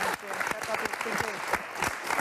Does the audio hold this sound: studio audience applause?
yes